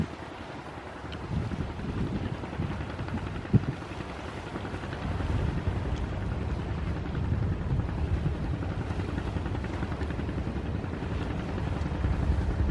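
A fishing boat engine, off Phú Quý island, drones steadily with low rumble and wind buffeting as it accelerates out to sea, rising slightly in strength as it continues; no voices.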